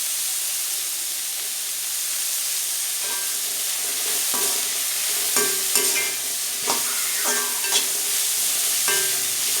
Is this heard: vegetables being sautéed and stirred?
yes